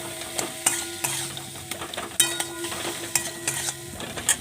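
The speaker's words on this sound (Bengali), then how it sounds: "নাড়তে থাকি।" A spoon scrapes and stirs food in a pan after salt goes in, with rhythmic clinks and scrapes over a steady sizzle, close and fairly loud, with no talking.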